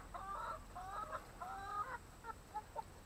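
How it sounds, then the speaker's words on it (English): Chickens cluck in their new coop, a flock of about two dozen young laying hens sending out overlapping bursts of soft clucks and short calls, fairly faint and with no talking. "and chickens are in here. It's gonna be their new home."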